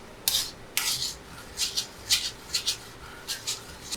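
A spoon scrapes and rubs against a pan while a milk mixture for sandesh is stirred; repeated short scraping strokes in an uneven rhythm sound close and moderate over a steady low background hum, with no talking.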